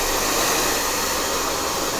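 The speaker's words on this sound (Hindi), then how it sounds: "ड्रायर का यूज़ कर रहा हूँ" A hair dryer blows on a fresh watercolor wash, a loud, steady whooshing roar that holds constant for a couple of seconds with no voices.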